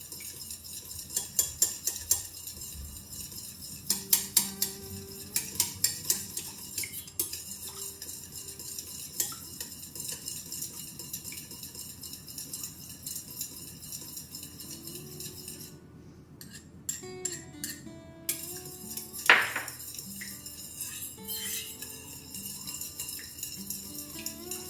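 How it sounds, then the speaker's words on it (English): Utensil stirring scented wax in a pot while making a spicy candy scented Halloween candle, with repeated scraping and clinking strokes at close range over a low steady hum, some strokes sharper than others. "Important you stir well so your scent is incorporated well into the wax"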